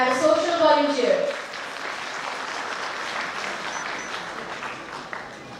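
Audience applause welcoming a guest on stage, a brief announcer's voice at the start giving way to steady, even clapping from a crowd that holds at a constant level to the end.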